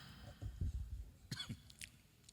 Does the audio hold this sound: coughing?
yes